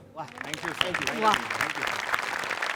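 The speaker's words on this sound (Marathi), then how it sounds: "त्याच्यासाठी पण एकदा टाळ्या वाजल्या पाहिजेत" A studio audience at a Marathi comedy show breaks into applause that swells beneath a speaking voice, staying moderately loud after a quiet start.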